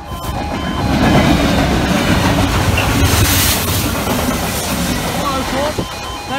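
A train passes a level crossing with a steady loud rumble and rail clatter rising and holding for several seconds, with a faint squeal near the end and voices audible beneath.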